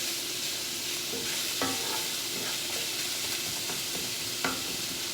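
Italian sausage and red meat fry in a pan for lasagna, a steady close sizzle with occasional scraping stirs and small clicks, no voices.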